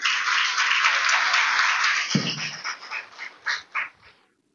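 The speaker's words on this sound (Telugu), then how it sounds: "క్లాప్స్ కొట్టాలి గట్టిగా" A church audience at a field training session claps loudly in a dense burst of applause that breaks off into a few scattered, separate claps before ending, close and filling the room.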